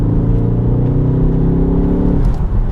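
Ford Focus ST MK4.5 exhaust under throttle, a loud, deep, close engine drone rising steadily before easing off at the end, with no voices.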